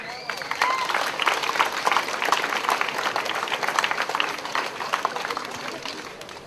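An audience applauds for Maria Grozdeva, moderately loud, dense clapping that builds quickly and fades toward the end, with some voices underneath.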